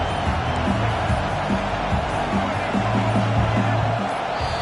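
A stadium crowd in an NCAA Football video game roars steadily through a late fourth-quarter third down, a dense wall of cheering with scattered tonal horn-like bursts layered on top.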